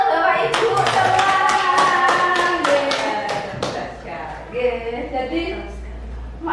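Hands clap in a dense burst from a small audience of teachers and parents at a school workshop on positive culture, loud at first then thinning out by about four seconds, with voices murmuring underneath afterward.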